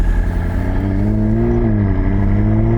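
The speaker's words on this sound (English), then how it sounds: "We're on Whilton Mill and a McLaren 600 LT" McLaren 600LT engine revving at Whilton Mill, a loud, continuous near roar whose pitch climbs and then holds steady, with no talking.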